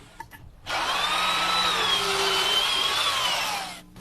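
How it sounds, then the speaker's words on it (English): A heavy-duty power drill with a sharp auger bit whines steadily for about three seconds as it bores bolt holes through wood, loud and close, starting abruptly and tapering off at the end. "We use a heavy-duty drill motor and a good sharp auger bit to drill our holes."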